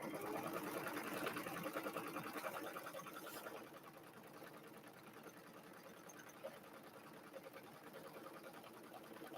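An embroidery machine stitches quilting designs on layer-cake fabric squares in the hoop, a steady, quiet mechanical whir running continuously and easing slightly softer partway through.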